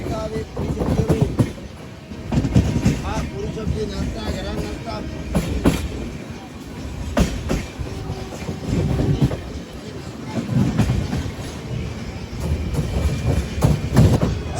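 An Indian train rolls past on the rails at Salem Junction, wheels clattering in uneven bursts with a steady rumble, while voices talk nearby.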